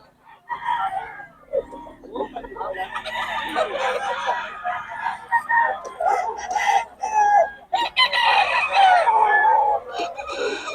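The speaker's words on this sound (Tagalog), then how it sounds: "Ang gulo ng manok." Chickens cluck and squawk continuously, with roosters crowing over the noisy flock in Bocaue; the sound is close, busy, and fairly loud throughout.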